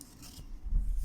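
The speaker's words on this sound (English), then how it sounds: "we cut our yarn" Scissors snip through crochet yarn in a brief, close, quiet cut with a soft rubbing texture.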